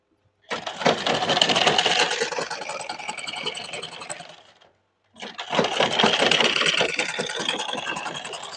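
A sewing machine stitches a pajama in two long, continuous runs of whirring motor and rapid needle clatter, separated by a brief pause, loud and close with no talking.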